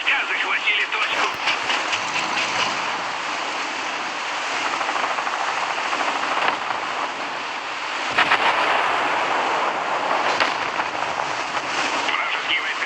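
Bomb explosions in the tank combat game War Thunder form a dense, loud wash of rumbling blasts and battle noise throughout, surging near the middle and again after eight seconds, with engine drone and radio-style chatter mixed in.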